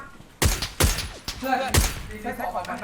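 Gunfire at a warehouse in a shooter video game: three sharp, loud shots roughly half a second to a second apart, mixed with voices talking.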